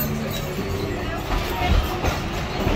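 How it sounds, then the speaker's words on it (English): The Rio Grande train at Knott's Berry Farm rolls past as a steady, fairly loud rumble with clattering swells, while voices murmur faintly in the background. "This is the train we just rode."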